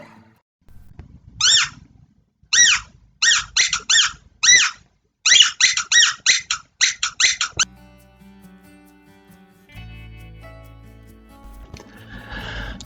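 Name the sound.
mouse squeak call for lifting fox's head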